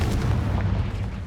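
The Confringo fire spell goes off in Hogwarts Legacy as a short, heavy blast, a booming burst with a rumbling low end that fills the whole moment and fades slightly at the tail, with no voices over it.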